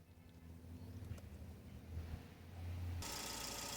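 Car engine starting and idling in a workshop setting, a low steady rumble over light wind noise, with a brighter broadband burst near the end, close and moderately loud, no talk.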